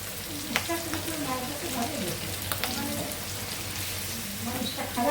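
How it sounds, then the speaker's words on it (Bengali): Green chilies and onions fry in oil for a fish bhuna, producing a busy, continuous crackling sizzle nearby, with a faint voice in the background and occasional stirring taps. "মাছ ভুনার জন্য কাঁচামরিচ আর পেঁয়াজ দিয়ে দিচ্ছি, একটু ভেজে নেব লাল লাল করে"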